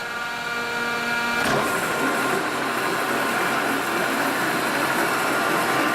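A G&L HDB horizontal boring machine with two-speed motors on its boring heads runs a machining cycle, a loud steady mechanical whine and hum that shifts and thickens about a second and a half in, with no talking.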